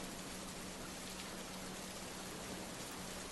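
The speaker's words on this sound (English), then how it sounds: "It's the rain, isn't it?" Steady rain of a storm falling outside, a dense even hiss with no breaks, heard faintly and alone.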